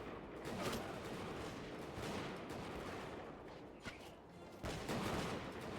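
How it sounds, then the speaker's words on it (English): Rifle volleys crack in the Bannerlord Europe 1700 battle game. Bursts of massed musketry come in uneven waves over a continuous din of battle, with sharper volleys standing out near the middle and the end, all at a faint overall level. "That's it, rifles. Keep firing, men."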